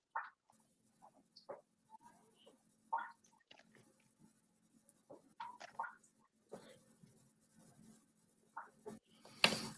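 Pens scratch across paper in short, irregular strokes during a TV quiz, close and quiet, with small pauses between bursts of writing.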